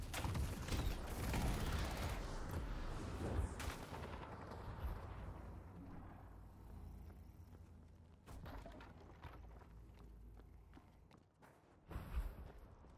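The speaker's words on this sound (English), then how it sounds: "So I'm just going to get to a safe spot and start shooting him." Gunfire from shooting an enemy in the fighting game Soulcalibur while playing Ivy, a dense, fairly faint stretch of rapid bangs and impacts that thins out, with a few sharper hits near the end.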